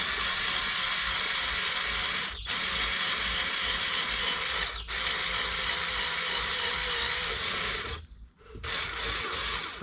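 A power drill bores a hole into the intercooler of a VW MK4 TDI, a loud, steady, high-pitched whine that runs continuously and stops briefly three times before resuming.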